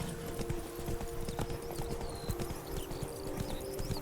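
The horse Roach from The Witcher 3 galloping, a steady rapid clatter of hooves under a dense rumbling game soundscape, close and continuous throughout.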